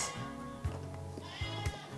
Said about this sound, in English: I'm seriously being interrupted by a goat right now.